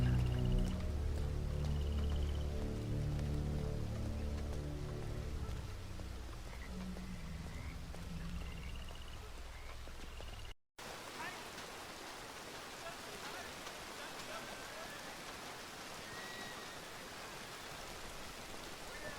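Steady rain hisses down with dense patter, first under a low droning hum, then alone as a continuous wash with occasional faint chirps.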